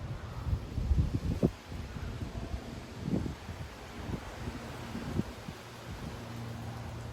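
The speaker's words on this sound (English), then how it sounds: "this wind is crazy" Strong gusty wind blows outdoors in Frisco, Texas, with uneven rumbling buffets against the microphone and a few sharper gust bursts over a constant low roar.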